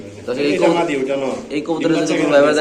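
Pigeons coo in low, rolling, repeated calls close by at a pigeon farm, mixed with someone talking over them.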